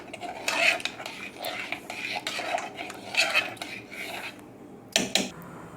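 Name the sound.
stirring dal with a spoon in a pot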